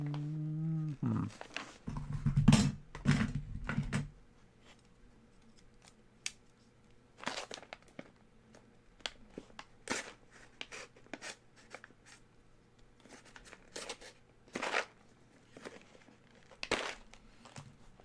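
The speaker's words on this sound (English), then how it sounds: "I just had to open it with a knife." Close scratching and slicing of a knife through a crinkly, tightly glued Death Wish Coffee bag, in scattered bursts over a steady low hum, with a brief voice early on.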